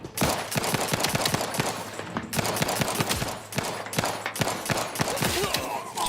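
Rapid bursts of automatic gunfire in The Outer Worlds 2 crack out close and loud, fast rattling volleys broken by short pauses, with a low groan mixed in.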